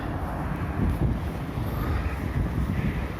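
Wind gusting through a snowstorm in Yakutsk, a steady broadband roar buffeting the microphone throughout with slight surges, no voices.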